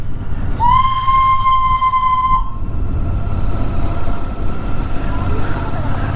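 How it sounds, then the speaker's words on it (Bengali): A train rumbling loudly close by near Darjeeling, with a long piercing whistle blast near the start, then a steady heavy roll with faint voices underneath. "এই দেখো এখানে ট্রেন।"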